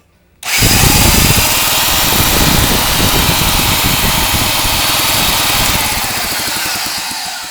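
A 4 HP Johnson outboard motor fitted with electronic ignition is spun over by its flywheel and catches suddenly into a loud, rough, rapid buzzing run up close, steady for several seconds then easing slightly, with no voices.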